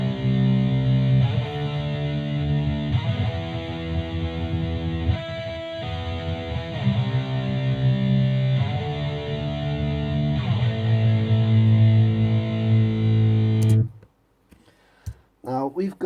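Two distorted electric guitars mixed together, EQ'd and panned, with a lead guitar cutting through: sustained chords and a melodic lead for about fourteen seconds, then a voice speaks after they stop.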